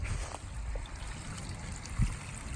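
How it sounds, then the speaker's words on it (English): A bucket of water is poured onto the base of a tree outdoors, making a soft, steady trickling rush with a small splash near the end. "Just need to give it a couple of buckets of water."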